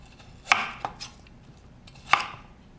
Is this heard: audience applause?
no